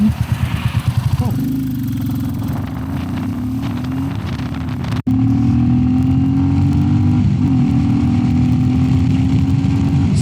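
Royal Enfield Classic 350 motorcycle accelerating hard from standstill to 80 km/h: a thumping idle rises into a loud, close engine roar through a gear change, with its steady pitch climbing after each shift.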